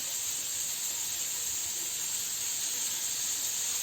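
Strips of meat sizzle in a preheated frying pan over high heat for goulash, a loud, constant hiss of frying fat with no pauses and no talking.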